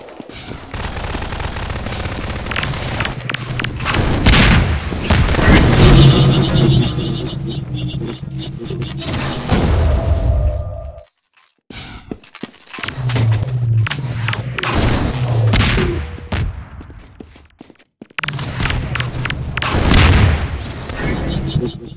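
Rocket explosions and gunfire in a competitive Half-Life 2 Deathmatch match, dense booming blasts and rattling shots packed together in loud bursts, with brief silent gaps between the heavy stretches.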